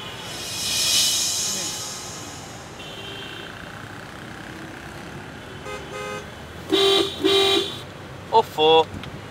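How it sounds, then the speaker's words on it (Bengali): Car horns honk in short bursts amid busy traffic outside a hospital, with a distant hiss and road noise early on, then several loud close toots toward the end. "ওফো, হাসপাতালের সামনে হর্ন বাজিও না।"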